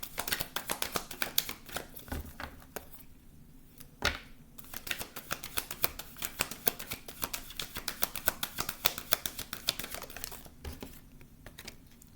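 Tarot cards are shuffled and drawn by hand, producing quiet, close, rapid riffling clicks and soft crinkles that continue almost nonstop, with one brief pause partway through.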